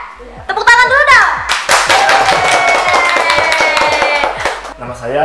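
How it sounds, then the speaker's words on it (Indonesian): Studio audience clapping hands, sharp individual claps from a modest group building into a quick irregular patter, close and loud, with voices heard among them. "Tepuk tangan dulu dong."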